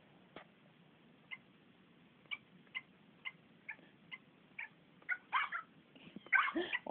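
Cartoonish cat and dog sounds from the Nintendogs + Cats game: a string of short, evenly spaced chirpy calls, then a denser cluster of louder yelps and meows near the end, over a faint hum.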